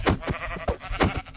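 Sheep bleat in Minecraft, several short nasal bleats in quick succession that sound close and loud, with no other sound around them.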